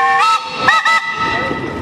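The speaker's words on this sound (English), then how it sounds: "That's that Baker whistle. It's got a shrill head." A shrill Baker steam whistle sounds at a steam threshers show, giving two loud harmonic blasts in quick succession with a brief gap between them, followed by softer trailing tones and outdoor crowd murmur.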